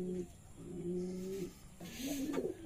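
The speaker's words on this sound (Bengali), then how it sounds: "আজকে দেখাবো আপনাদের আমার রাজশাহী গিরিবাজ ও রেসারের কবুতরের ডাক।" Rajshahi Giribaz and racer male pigeons cooing in a loft: close, soft, throaty coos in two or three drawn-out phrases, alone with no talk.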